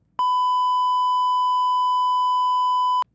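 A single long, loud steady beep lasting about three seconds from the sensor on a Rode Rodecaster Pro II podcast production console, a piercing pure tone that starts and stops abruptly, with silence around it.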